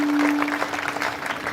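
Audience clapping at an outdoor Hindu devotional gathering, a week-long Harinam Saptah and Dnyaneshwari reading in Dhok Sangvi, Shirur taluka; a dense, steady patter of hands for about a second and a half, with a faint sustained tone underneath.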